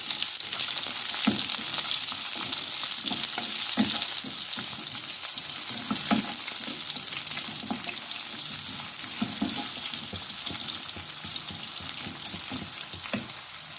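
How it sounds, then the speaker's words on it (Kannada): Pieces of raw mango frying in oil with garlic and fenugreek seeds for a fish curry, a steady close sizzle broken by intermittent scraping stirs, with no talking. "ಇವಾಗ ಮಾವಿನಕಾಯಿ ಹಾಕ್ಕೊಂಡಿದ್ದೀನಿ. ಇದನ್ನು ಸ್ವಲ್ಪ ಎಣ್ಣೆಯಲ್ಲಿ ಫ್ರೈ ಮಾಡಬೇಕು ನಾವು."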